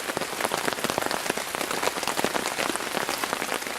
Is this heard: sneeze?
no